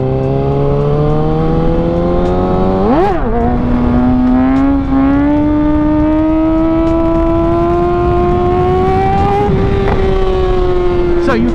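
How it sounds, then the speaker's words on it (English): Motorcycle engine revving loudly up close during wheelies, a quick blip then a long steady climb in pitch as it holds speed, dropping at the end. "Now pay attention as I do wheelies."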